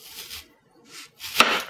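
Knife cutting vegetables into slices for a pumpkin vegetable soup, giving three short, soft chopping strokes with pauses between them, the last one sharper and louder.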